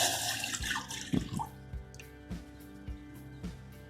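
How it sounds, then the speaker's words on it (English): Milk poured from a bowl into a pot on a gas stove, a brief splashing pour up front followed by a few soft drips and clinks over a steady background hum. "I'm going to add 1 bowl of milk."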